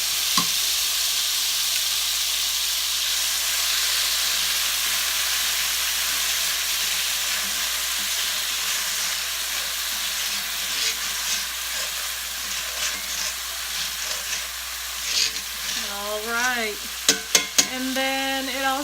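Spaghetti sauce sizzles in a hot pan while being stirred for chicken paprika, with a steady close hiss of frying throughout, soft utensil scrapes and a few sharp clinks near the end.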